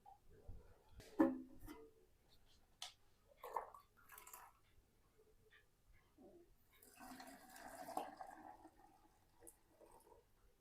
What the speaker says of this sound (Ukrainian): І тепер буду окропом заливати банки.